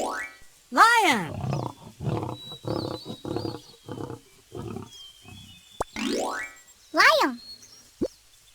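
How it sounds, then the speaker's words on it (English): A lion roars twice in deep, drawn-out calls, each followed by a series of rhythmic grunting roars, loud and close with a brief gap of quiet between them. "Lion."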